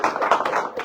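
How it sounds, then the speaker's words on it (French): A short burst of hands clapping together, close and loud, uneven bursts of claps from a small group with no speech over them. "Applaudissez-vous."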